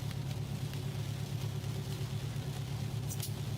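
A car engine idles roughly with a low, uneven rumble, its tone likened to a Subaru WRX and from a car that sometimes runs poorly, heard steadily at moderate distance with no speech.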